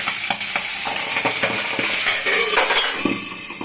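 Pabda fish sizzle and crackle in hot oil in a kadai, with bursts of spattering and occasional clinks of a utensil, close and lively throughout.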